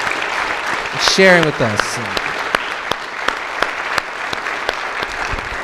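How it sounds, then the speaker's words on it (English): A crowd applauds loudly and steadily for several seconds while a voice speaks briefly over the clapping near the start. "a really loud round of applause"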